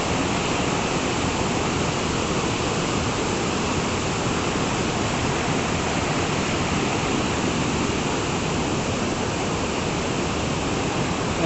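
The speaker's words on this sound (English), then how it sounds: "you can sit here and enjoy the waterfall" Kuske Waterfall in Canacona, South Goa, India roars steadily and loudly, a dense, unbroken rush of falling water with no voices over it.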